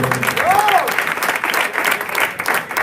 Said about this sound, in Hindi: रवि भैया के लिए एक बार जोरदार तालियां